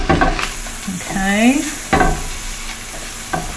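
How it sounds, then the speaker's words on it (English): Bacon sizzles steadily in a hot pan while making spaghetti carbonara, a continuous crackling hiss, with a brief spoken word and some stirring clatter. "So you can already hear that sizzling."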